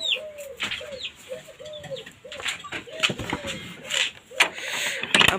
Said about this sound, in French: Et on a la pigeon voyageur. La pigeonne voyageuse mosaïque